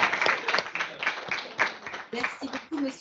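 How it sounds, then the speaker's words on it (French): An audience at a banking and finance conference gives brief applause, uneven clapping swelling in short bursts as a voice talks over it. "Et là, normalement, c'est les applaudissements."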